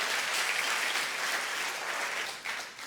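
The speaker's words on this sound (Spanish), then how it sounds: "Vamos, aplaude fuerte." Congregation at a church service breaking into steady, dense applause that fills the space, holding at an even level before easing off slightly at the end, with no voices over it.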